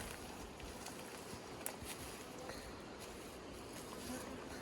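Honeybees flying around a six-frame hive set among flowering acacia, a steady, dense buzzing hum that stays close and even throughout, with occasional louder passes as single bees fly near.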